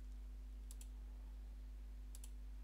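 Two pairs of quick, faint mouse clicks about one and a half seconds apart, made while working in ABAQUS software, over a steady low electrical hum.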